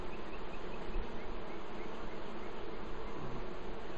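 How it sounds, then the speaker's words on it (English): A dense swarm of honeybees drones steadily around a top bar hive that is being moved, a loud, continuous close buzz with no talking. "And we have a zillion bees."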